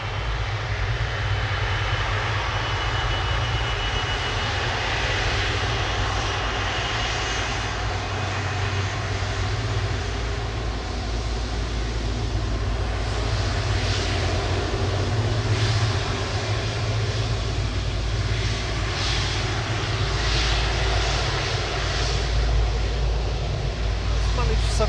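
A steady, loud jet roar fills the air as an airliner lands at Manchester Airport with its thrust reversers deployed, rumbling on unbroken for the whole stretch.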